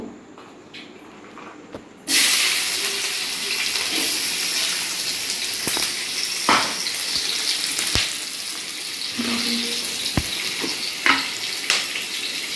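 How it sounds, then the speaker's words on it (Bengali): Loud, continuous sizzling as chopped onion, capsicum and garlic hit hot oil, crackling steadily with occasional sharper pops and stirring. "পেঁয়াজ ক্যাপসিকাম আর রসুন সেগুলো তেলের মধ্যে এখন দেব"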